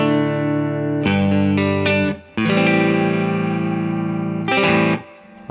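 A clean electric guitar through a Two-Rock Bloomfield Drive amp with a touch of reverb, ringing chords held for a second or so each, separated by short gaps and fresh strums.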